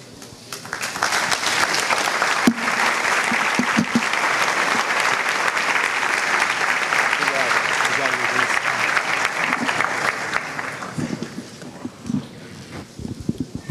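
A church congregation applauding during a sermon, a sustained, full wash of clapping that rises quickly, holds steady for about ten seconds, then thins into scattered claps and faint voices.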